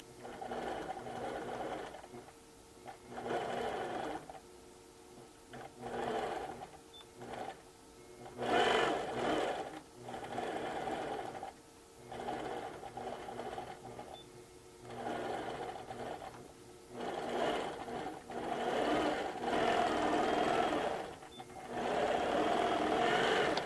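A sewing machine stitches a zipper, running in repeated bursts of steady mechanical whirring close by, with short pauses between passes as the seam is double stitched.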